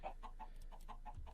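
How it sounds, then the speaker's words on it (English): Chickens in modded Minecraft cluck in a quick, evenly spaced series of short, faint calls over low background hum; no one speaks. "Look at all those chickens."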